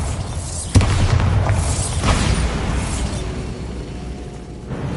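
Bombarda explosion spell in Hogwarts Legacy: a sharp, loud blast hits after a quiet moment, followed by rumbling debris and crackling shatter that slowly fades.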